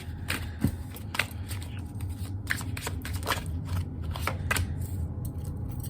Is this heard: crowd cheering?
no